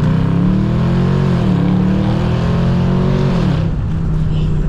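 Engine of a 2021 Dodge Durango R/T with a 5.7L HEMI V8 (380 hp), heard from inside the cabin, holding a loud, steady drone with harmonics that rise and dip, then settling lower.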